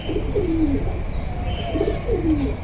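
A silver-pattern Bagha pigeon coos close by, giving a few rolling, throaty coos in two separate bouts over a steady low background hum, with no voices.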